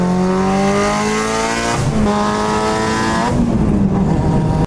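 Loud, aggressive engine of a Mitsubishi Evo 8 with a turbo boost kick, revving up in two strong pulls with a brief gear-change dip between, raw and close throughout.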